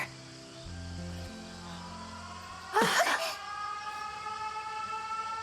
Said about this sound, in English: The sirens.